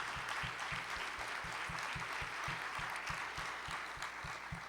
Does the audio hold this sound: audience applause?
yes